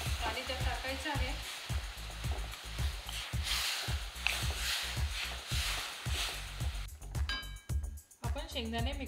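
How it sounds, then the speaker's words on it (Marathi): A mixer grinder grinds peanuts in a kitchen, a loud steady whirring motor with pulsing rhythmic churning, stopping briefly near the end before starting again; a voice speaks over parts of it. "आपण शेंगदाणे मिक्सरवर वाटून घेऊ."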